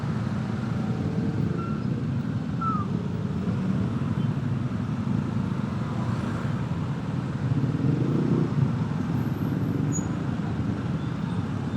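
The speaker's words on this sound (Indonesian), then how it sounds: "Tetap aja sini ya macet." Stop-and-go Jakarta traffic jam from a moving motorcycle: a steady blend of engine rumble, road noise and wind buffeting, continuous and fairly loud with no talking.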